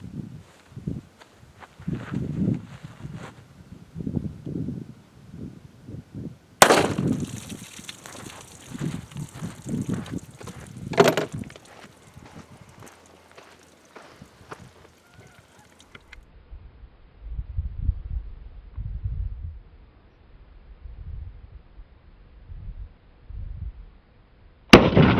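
A .380 ACP handgun firing Federal 95 grain full metal jacket rounds into a 10-pound clay block outdoors gives two sharp, loud cracks several seconds apart, amid footsteps and low rustling.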